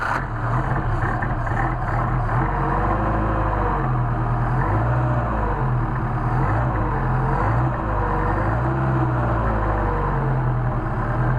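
A Mercedes 190SL engine fed by Solex carburetors runs steadily with choke on, a loud continuous low rumble with slight undulating pitch and no talking.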